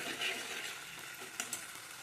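Prawns fry in a pan with Schezwan, chilli and soy sauces, giving a soft, steady sizzle with a couple of sharper clicks near the end; no voices.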